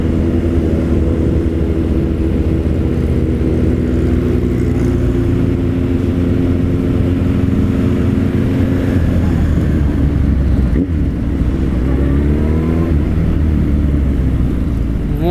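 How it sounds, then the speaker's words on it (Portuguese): Close, loud engine rumble from a busy motorcycle festival street, where an orange Ducati Panigale is among the bikes. The motors drone and rev continuously, with the pitch swelling and falling throughout. "Olha a Panigale laranja."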